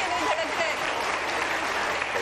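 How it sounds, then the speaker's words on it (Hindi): Audience applause at a televised singing competition round, a broad steady wash of clapping that fills the whole stretch at even loudness, with a voice faintly audible over it. "तालियां बताएंगी कि दिल धड़क रहे कि नहीं धड़क रहे।"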